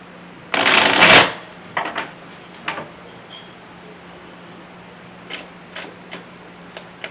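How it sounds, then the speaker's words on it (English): A single quick riffle of tarot cards shuffling, loud and close, followed by a few soft taps and clicks as the deck is squared. "Give it one quick shuffle for your overall"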